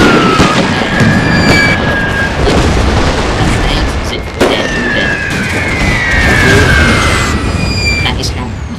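Artillery barrage in The Great War, a World War I trench-warfare mod for a video game: a dense, continuous rumble of explosions with whistling shells streaking overhead, loud and unbroken throughout.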